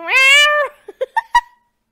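A cat gives one long, loud harmonic meow, followed by a few short, clipped chirps and mews that trail off into silence.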